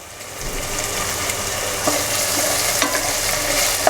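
Chopped green beans stir-fry in a hot pan for an Indo-Chinese mixed American chopsuey, with a steady close sizzle and a few sharp clinks of a utensil against the pan.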